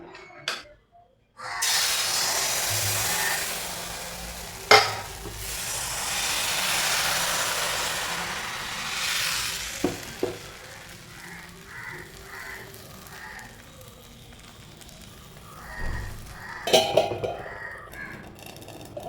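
Appam batter poured into a hot pan sets off a loud, broad sizzle that hisses steadily for several seconds, then fades to quieter crackling with a few small knocks near the end.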